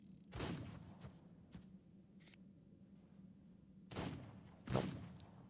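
Several gunshots crack in ARK Survival Evolved, a video game, a few sharp reports spaced apart with two louder shots near the end, over a low steady game rumble.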